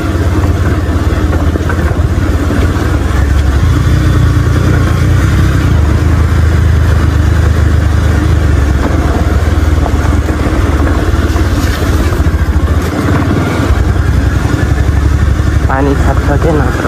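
A motorcycle engine idles in neutral with a steady low rumble throughout, loud and close, while people talk over it and brief wind buffeting comes and goes.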